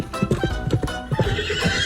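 Hooves clip-clop in a quick rhythmic patter while a horse whinnies over them, close and fairly loud, all within about two seconds.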